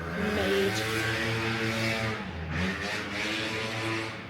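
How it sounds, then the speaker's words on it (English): A car drives past outside in Marbella, its engine rising to a near, brief revving rush and then fading away, with no one talking. "You guys can definitely hear that car that just went past"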